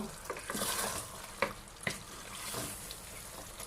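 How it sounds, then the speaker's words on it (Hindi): Chicken curry with black pepper powder being stirred in a pan, a steady sizzle under a spoon or spatula scraping, with two sharp clinks of utensil against metal partway through; no voices. "मिक्स कर देंगे इसको।"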